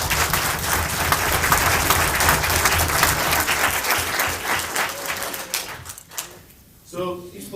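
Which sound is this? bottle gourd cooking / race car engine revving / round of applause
round of applause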